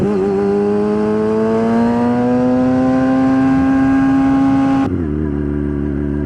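A motorcycle held up on its back wheel, engine revving steadily with pitch climbing slowly as the throttle stays open, then cutting back sharply to a low idle as the bike comes down, loud and close.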